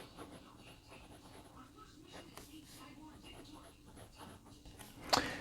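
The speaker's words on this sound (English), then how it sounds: "this is my first time to write with it, and so far it's writing pretty well." A Penbbs 456 fountain pen with a fine two-tone nib writes on paper, giving faint, steady scratchy strokes at close range, ending in a louder tap.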